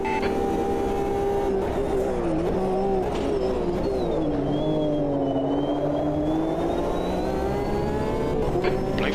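A Porsche GTE race car engine in the racing game Automobilista 2 screams at high revs, holding a steady loud whine that dips and rises with shifting pitch through corners.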